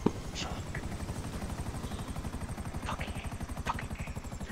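A helicopter in GTA V Online, its rotor thumping in a fast steady rhythm throughout, loud and close, with faint voices and a few brief sharp game sounds over it.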